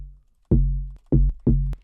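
Deep Serum synth sub-bass built from two layered sine waves, one pitched down two octaves and one down one octave, with the tom transient layer switched off, for an afro house track. Three smooth, rounded low notes sound alone, each sustaining briefly before cutting off.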